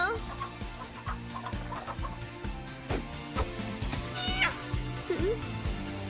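Chickens cluck and squawk repeatedly close by, busy and agitated, over steady background noise and some voices.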